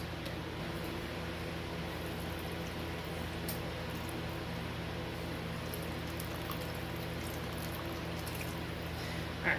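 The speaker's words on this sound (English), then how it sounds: "I am going to add just a little bit more water because I want it to cover the potatoes." Water pours steadily into a cooking pot over potatoes, a continuous soft splashing stream that runs evenly throughout with no voices.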